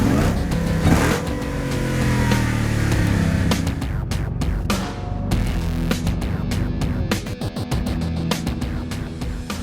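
A Jeep Trailcat's 6.2-liter Hellcat Hemi V8, rated at 707 horsepower, revs loudly and close up, its deep roar rising and falling in a sustained throaty blare with no talking.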